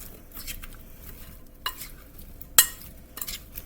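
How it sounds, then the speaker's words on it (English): A spoon stirs ingredients in a bowl for a corned beef dinner, with soft, steady scraping swirls, a few light clinks and one sharp knock against the bowl, close up and with no talking. "you're going to give this a nice stir"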